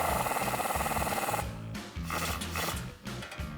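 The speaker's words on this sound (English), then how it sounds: "Now you're gonna take a 22 millimeter socket and tighten that castle nut down" A 22 mm socket tightens a castle nut on a tie rod stud during a tie rod install, giving a steady close mechanical grinding and ratcheting that drops briefly in level partway through.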